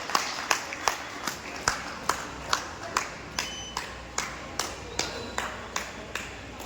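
Audience at a Guru Purnima gathering in the Porwal Samaj dharamshala, Ratlam, claps in unison for a guest: steady rhythmic claps about twice a second, moderately distant, with a faint room murmur beneath.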